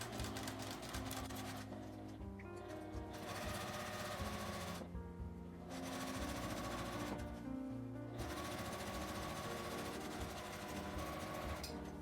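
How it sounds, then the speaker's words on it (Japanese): Sewing machine running steadily as it stitches a placemat with a 1 cm seam allowance, with a continuous mechanical whir interrupted by two or three brief pauses between stitching runs. "端の方までそのまま1センチの縫い代で縫います。"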